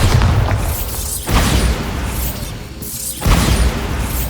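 A Bombarda blasting spell explodes in Hogwarts Legacy, two loud booming blasts about two seconds apart, each a broad burst followed by a rumbling decay.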